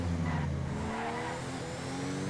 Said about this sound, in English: That car is flying.